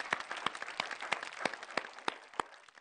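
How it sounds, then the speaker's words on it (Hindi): An audience at a Hindi-Urdu poetry gathering applauds, with distinct claps ringing out in a steady irregular rhythm, loud and close, no talking over it. "जोरदार तालियां बजाएं"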